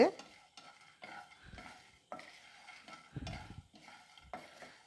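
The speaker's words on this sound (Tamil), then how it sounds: "இதை நல்லா மீடியம் ஃப்ளேமில் வச்சு வறுத்துக்கணும்" Cumin, curry leaves and peanuts frying in a pan over a medium flame, with a few distinct stirring scrapes and light sizzling between them, close up and with no voices.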